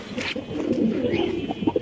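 Pigeons coo in low, soft, repeated calls close by at a pigeon farm, several birds overlapping in a brief burst without talk.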